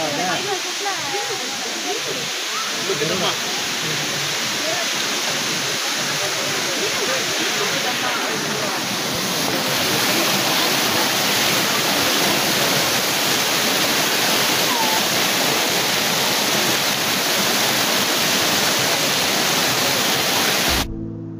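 Dabe Dabe waterfall in the Chikmagalur forest roars as a steady, loud, broadband rush of falling water, continuous throughout with no pauses.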